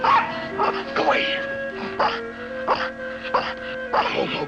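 A dog yips and barks in short bursts, several times over a few seconds, close by and loud.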